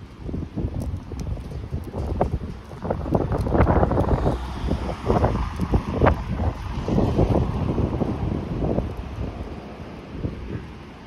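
Gusty wind buffets the microphone outdoors on a walk around a hospital campus, a constant loud rumble with rustling bursts and no speech.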